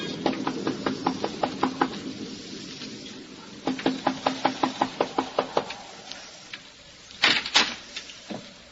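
Knocking on the door of a lonely farmhouse in a radio drama: two bursts of quick, sharp raps, about a dozen each, then a few louder, heavier knocks, close and alone with no voices.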